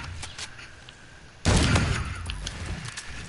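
Shotgun fire in Call of Duty: Infinite Warfare, a few faint distant shots followed by one loud, close, sharp blast with a decaying boom, then scattered lighter pops.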